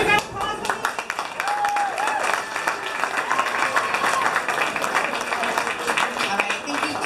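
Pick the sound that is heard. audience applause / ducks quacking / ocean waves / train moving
audience applause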